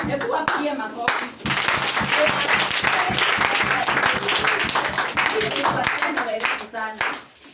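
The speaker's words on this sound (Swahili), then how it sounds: "Hebu wapie makofi." A group applauds during a prayer and worship gathering at a children's home, with loud, steady clapping for about seven seconds before it tapers off. Some voices can be heard in the background.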